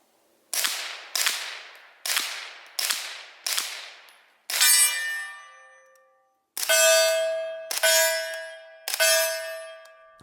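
Rapid shots from a suppressed Springfield Armory Kuna at night: about six sharp cracks in quick succession, then several louder metallic ringing impacts with long decaying tones, no voices.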